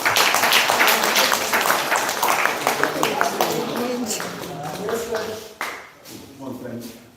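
An audience at a live agroforestry women's group gathering applauds with dense clapping that starts loud and thins out, while voices and chatter run underneath and rise toward the end.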